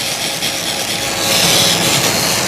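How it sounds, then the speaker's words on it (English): A recipe mixture being whisked by hand in a bowl, a steady continuous scraping and rubbing that runs throughout at a fairly loud, close level, with no voices. "Here we go. Whisking up."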